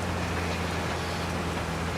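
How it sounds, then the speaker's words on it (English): Steady, dense rain hisses without pause in the video game Farming Simulator 22, a continuous loud wash with a faint low hum beneath and no talking. "It's not raining that bad yet. Well, it is coming out pretty good."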